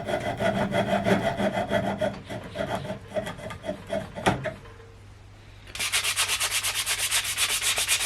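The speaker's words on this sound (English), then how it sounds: "Then I could cut off the rest of the dowel." Steady back-and-forth hand sawing through a wooden dowel, rhythmic rasping strokes, then a brief quiet pause before a faster, brighter burst of sawing resumes close by.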